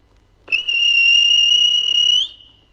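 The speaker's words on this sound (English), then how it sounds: "Then the guard blew his whistle." A train guard's whistle gives one sustained, piercing, steady tone lasting under two seconds, loud and close, rising slightly in pitch just before it cuts off, with near silence on either side.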